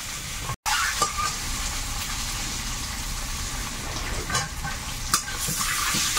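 Large country duck eggs fry with salt and turmeric in a pan, giving a steady loud sizzle with occasional scraping stirs and a brief dropout near the start.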